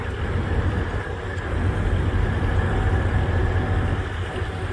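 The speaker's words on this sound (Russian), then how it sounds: "Траки." Trucks parked at a roadside rest area give off a steady, unbroken low engine drone, like idling motors nearby, with no voices.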